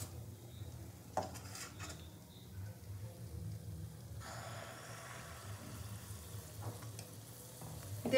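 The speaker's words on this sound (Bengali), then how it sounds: "ভালো করে উল্টে পাল্টে এটাকেও ভেজে নেব" Adosha pitha, a sweet rice-flour cake, frying in hot oil: a steady low sizzle runs throughout, with a few soft clinks and stirring scrapes of a utensil against the pan, fairly quiet and close, with no talking.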